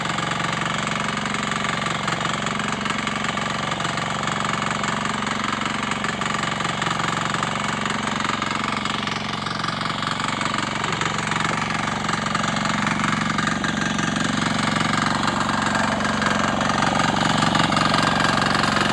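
A small tractor ploughs hard, dry soil in a rice paddy in Vietnam, its engine running as a loud, steady, close rumble with a rough, knocking vibration that continues unbroken throughout, with no voices.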